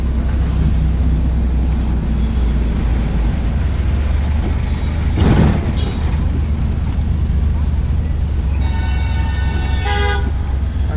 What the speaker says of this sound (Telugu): ఇది కొండగట్టు బస్ స్టాండ్.